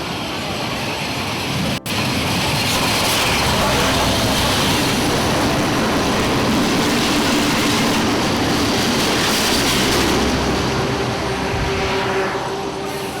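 A steady loud rumble of a KiwiRail train in New Zealand rolling past nearby, continuous rail and wheel noise filling the whole stretch with a brief click early on.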